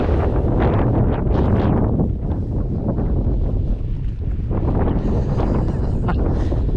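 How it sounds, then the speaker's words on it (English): Strong wind gusting across an exposed clifftop on the Cornish coast near Bedruthan Steps and Trevose Head, a steady roar buffeting the microphone throughout, dipping briefly before rising again. "As I say that, it starts blowing again."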